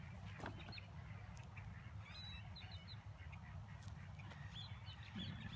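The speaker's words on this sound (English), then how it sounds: "You hear the ducks cheering him on." Ducks quack and honk intermittently in the distance over a steady low outdoor rumble on a disc golf course beside a ditch.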